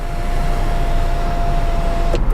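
A Subaru Outback 2.5i Premium's factory sunroof slides open and closed with a steady electric motor hum that holds for about two seconds, then stops with a faint clunk, with no voices.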